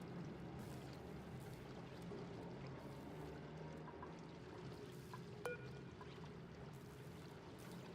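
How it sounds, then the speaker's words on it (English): Hot water geyser erupting in the game Oxygen Not Included: a steady, even rush of gushing, pouring water fills the whole stretch at constant loudness, with one brief click midway and no talk. "That looks like a hot water geyser."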